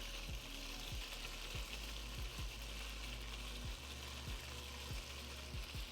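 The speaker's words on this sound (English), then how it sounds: "One more small batch to sear, and then it's mirepoix time." Cubed beef round sears in a hot pan for chili, a steady close sizzle running throughout with no voices.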